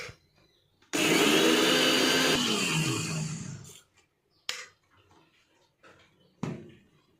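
A mixer grinder blends white and black mustard seeds, six green chillies and water into a paste. It roars loudly for about three seconds, then gives a few short, sharp pulses separated by silence.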